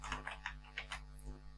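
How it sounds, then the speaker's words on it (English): Computer keyboard being typed on while entering text in an Excel spreadsheet, a quick burst of about eight light key clicks, close and clear over a faint hum. "Here I am typing"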